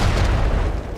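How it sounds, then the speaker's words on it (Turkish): A loud, deep explosion in the video game Uncharted 4: A Thief's End rumbles with a heavy low-end roar that stays strong for the whole second and fades only slightly at the end. "Artık o duyduğumuz patlamanın ne olduğunu biliyoruz."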